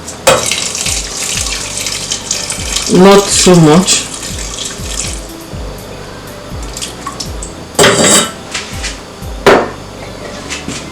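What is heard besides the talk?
water pouring into a cooking pot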